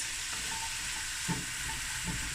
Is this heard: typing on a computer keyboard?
no